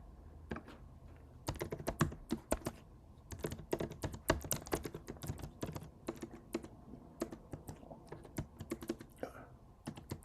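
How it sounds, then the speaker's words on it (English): Rapid typing on a sticky computer keyboard, close and clear, with irregular bursts of sharp key clicks and short pauses between runs. "Sticky keyboard today."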